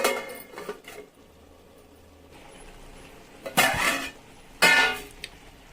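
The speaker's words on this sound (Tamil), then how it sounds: "நம்ம அதுக்கு ஒரு தட்டு போட்டு மூடி வைக்கலாம்." Two sharp clinks of a plate set down as a lid on a metal pot of drumstick and raw mango sambar, separated by a short pause, in an otherwise quiet kitchen.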